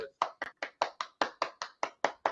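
Eleven sharp hand claps at a steady, even beat, close up and crisp, with silent gaps between them.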